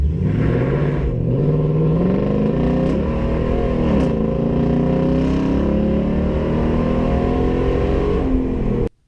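A loud, steady engine roar with rising revs as a Toyota Tundra truck pulls away hard off the line, heard from outside, throaty exhaust droning continuously until it cuts off at the end.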